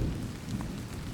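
Steady rain falls in a dense, even hiss with a low rumble beneath, continuous and fairly close, with no voices.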